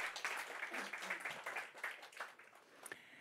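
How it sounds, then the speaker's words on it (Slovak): Applause at a Slovak UX meetup event, a dense patter of handclaps from a small audience, moderately loud and fairly steady, thinning slightly toward the end. "Ďakujem pekne, potlesk."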